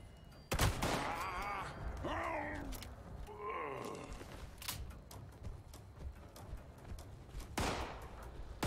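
Loud, sharp gunshots ring out in bursts, including a shotgun blast, mixed with pained groans and mechanical clatter, typical of a game battle in Fallout 76 with some noisy action between shots.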